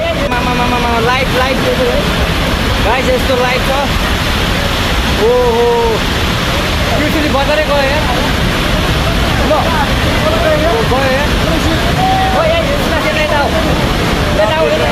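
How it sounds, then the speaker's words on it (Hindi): Roaring flash-flood water in Nepal tearing away an iron bridge, a loud continuous rushing torrent filling the whole span, with a voice speaking over it throughout. "उस पूरे पुल को अपने साथ पानी बहा ले गया।"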